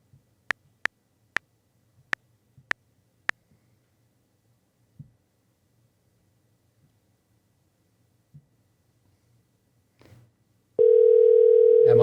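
A few sparse, sharp clicks and faint thumps over near-silence give way to a loud, steady telephone dial tone that continues unbroken to the end.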